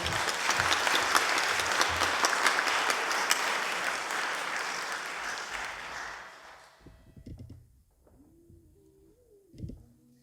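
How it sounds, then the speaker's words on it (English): An audience applauds a choir at a remembrance gathering, a dense, sustained clapping that fades out after about seven seconds, followed by quiet room sounds and a brief faint voice near the end. "Let's have a round of applause now for the choir again."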